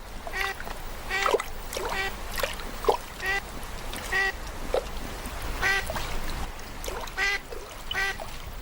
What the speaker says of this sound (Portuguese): é aqui que os gansos selvagens se reproduzem e criam seus filhotes